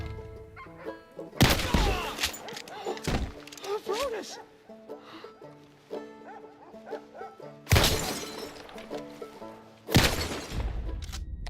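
Bottles shatter in a video game as they are shot, with three loud, bright breaking bursts spread through the clip, surrounded by game sounds and background noise.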